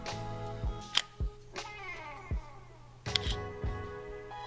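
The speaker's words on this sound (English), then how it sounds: "It to me sounds like a film camera shutter." Several crisp mechanical digital camera shutter clicks, spaced irregularly over a steady low hum, close and fairly quiet.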